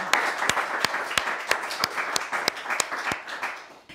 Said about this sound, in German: Also kann man gleich mal klatschen.